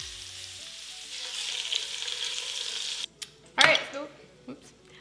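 Beef short ribs searing in a hot pan, with a bright steady sizzle that cuts off abruptly, followed by a burst of spitting fat and a few pan knocks, with speech heard around it.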